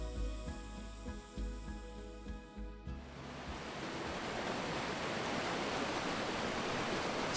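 A cool mountain valley stream in Pyeongchang pours down in a steady, dense rush of water that fills the scene after a musical opening fades out.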